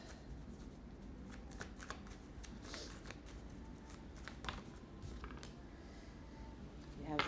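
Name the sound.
tarot cards being shuffled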